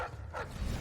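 Dogs bark in the video game Dishonored: Death of the Outsider, a few short, fairly faint woofs spaced apart over low background ambience.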